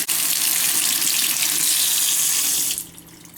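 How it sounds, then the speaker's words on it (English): A Moen Anabelle kitchen faucet pouring a strong, steady stream of water into the sink for a few seconds, loud and close, then shutting off abruptly. "Go ahead and turn this on and you see that it works pretty well."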